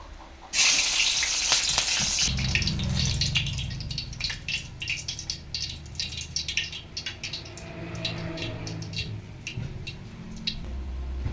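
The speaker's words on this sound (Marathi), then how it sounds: "तेल गरम आहे तसंच आपल्या ह्या मिरच्या तळून घेऊया" Four green chillies dropped into hot oil for chicken biryani, a loud burst of spitting sizzle at the start settling into a steady crackling fry with scattered pops.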